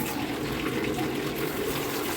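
Water is poured to rinse a toilet during cleaning, producing a steady, splashing gush that runs without pause. No one speaks.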